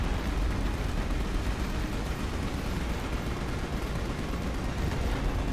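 Gunfire in the video game Final Fantasy 15 during Prompto's episode, rendered as a dense, unbroken roar of rapid shots that holds steady and loud for the whole stretch, with no talking.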